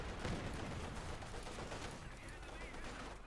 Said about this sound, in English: Got the mortar joining in.